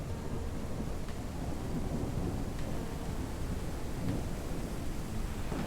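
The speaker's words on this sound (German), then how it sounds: "dann kommt das übertrieben laute Gewitter" A video game thunderstorm in Ranch Simulator: steady rain and rumbling thunder fill the whole stretch at a fairly loud, even level, with no voices.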